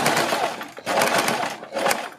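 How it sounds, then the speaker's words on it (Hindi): A sewing machine stitches pleats into a blouse neck, running in three loud continuous bursts separated by brief pauses, with no talk over it. "और फिर इन पर सिलाई लगा लेंगे"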